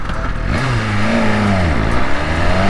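BMW S1000RR sport motorcycle accelerating hard through first and second gear, a loud, close engine roar rising in pitch, dropping at the upshift and climbing again, with no talking.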